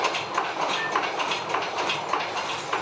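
A compound steam engine runs below deck on a steam ship, a steady rhythmic chuffing and clacking that repeats at an even pace, with no talking.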